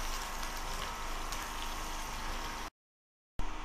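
Beef shank pieces frying in a pot for nihari, a steady close sizzling hiss that cuts out briefly and then resumes.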